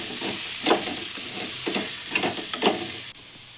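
Potato curry with chilli powder being stirred in a hot pan, a close, continuous sizzle broken by several scraping spoon strokes at irregular intervals, ending abruptly; no voices.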